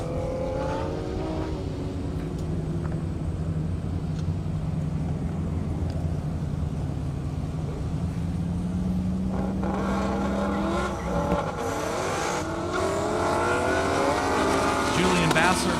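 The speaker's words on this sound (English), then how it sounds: "Now we got Corey Combs, Mustang GT, Wayne Cordell in the GT350" Mustang GT and GT350 racing on an airstrip at a half-mile speed event, engines roaring at a distance under an announcer's voice, rising in a louder, revving pass toward the end.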